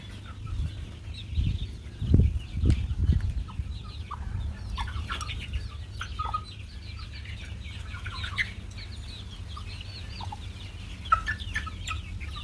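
Chickens cluck softly in scattered bursts against a quiet outdoor background, with a few louder thumps and flutters early on.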